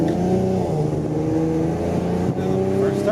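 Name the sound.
Infiniti Q50 car accelerating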